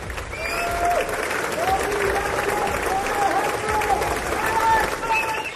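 US lawmakers at a joint session of Congress give India's Prime Minister Modi sustained, dense applause filling a large hall, with a crowd murmur and voices mixed in under the clapping.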